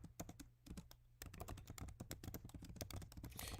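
Quick, faint clicks and taps from someone typing on a computer keyboard, keys pressed in fast irregular bursts close to the microphone.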